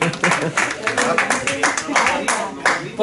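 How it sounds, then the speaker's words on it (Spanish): A small group claps for a child named Daniel: a few seconds of uneven handclaps mixed with talk, close and fairly loud. "Un aplauso para Daniel."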